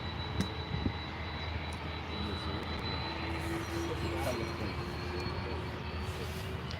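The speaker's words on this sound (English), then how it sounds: "Here we go, Aer Lingus A330 on the roll." Aer Lingus Airbus A330 on its takeoff roll at Manchester Airport, a steady broad jet engine roar holding throughout at moderate distance, with a faint rising whine and a voice briefly talking over it.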